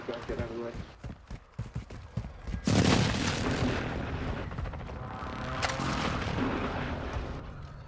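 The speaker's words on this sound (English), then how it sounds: "Oh, airstrike." Airstrike explosions in Call of Duty: Modern Warfare II arrive as a heavy booming barrage after tense game chatter, followed by a long rumbling roar that swells again near the end while players keep talking.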